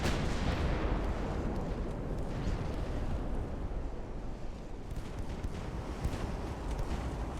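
Warship guns with autoloaders firing rapidly in Ultimate Admiral: Dreadnoughts, a loud, continuous rumbling barrage of heavy blasts running together with no speech.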